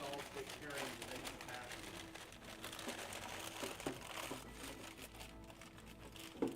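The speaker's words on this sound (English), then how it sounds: "everyone just had to hear this paper crinkle" Paper crinkling during a computer build, an ongoing rustle and crackle of handled paper, fairly faint, with scattered sharper crinkles throughout.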